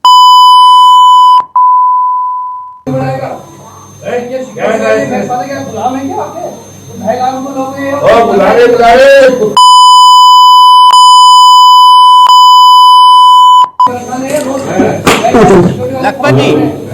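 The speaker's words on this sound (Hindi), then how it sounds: "सर बीप लगानी पड़ रही है, इतनी इतनी इतनी गंदी भाषा का इस्तेमाल कर रहे हो" A loud, steady censor beep tone cuts in twice, each time running several seconds, between stretches of agitated talk during a televised political debate.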